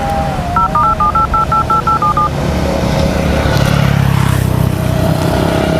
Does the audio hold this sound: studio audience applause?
no